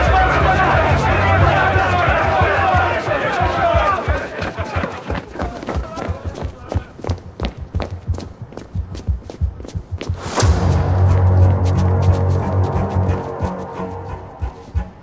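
A crowd of sailors in 1943 approaches with heavy, irregular footsteps and thuds beneath loud overlapping voices and crowd murmur, the steps continuing through a quieter middle stretch.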